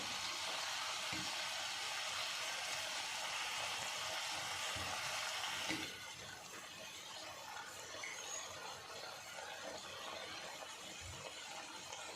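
Fried onions and green chillies being stirred into whole okra in a pan, with a steady hiss of frying that drops to a softer sizzle halfway, broken by occasional scraping stirs.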